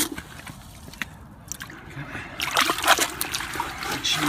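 Reef aquarium sand, crystal reef sand, being rinsed in water, with splashing and dripping that starts soft and grows louder and busier in the second half, close by.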